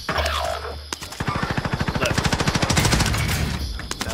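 An OTs-9 submachine gun fires in a video game, with a gas zone closing in: one fast, even full-auto burst of about two seconds of rapid, close, punchy shots.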